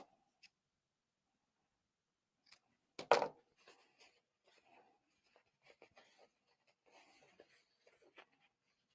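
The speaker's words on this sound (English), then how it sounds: "So along the long edges, snip and mark the center." Fabric lining is snipped with scissors and marked at the center, giving one crisp close cut followed by scattered light scratching, tapping and handling noises in a quiet room.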